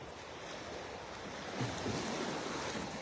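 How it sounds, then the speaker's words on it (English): Small waves lapping on the shore of Vanderbilt Beach in North Naples, Florida, a soft continuous wash with a gentle swell partway through and some wind noise. "Love listening to the sounds of the little waves lapping up on the shore."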